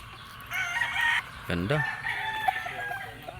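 A rooster at a backyard breeder's yard in Lipa crows once, loud and close, among nearby clucking fowl while someone talks.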